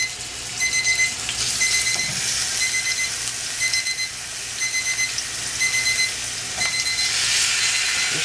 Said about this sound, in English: I don't know what that timer's for. Maybe it's telling me to speed it up.